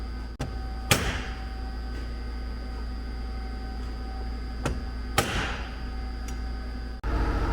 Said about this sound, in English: We just gotta take a block and hammer that down for a second.